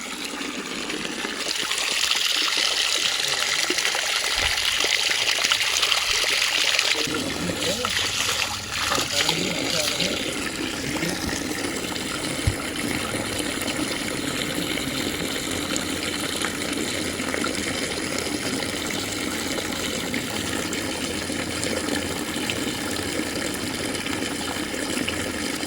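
Water from a village spring in the Uttarakhand hills runs and splashes steadily, a constant near rush, with people talking over it.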